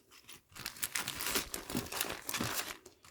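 Plastic surprise bags crinkling and rustling continuously as two of them are picked up by hand, close and fairly loud, with no talking.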